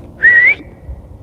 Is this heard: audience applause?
no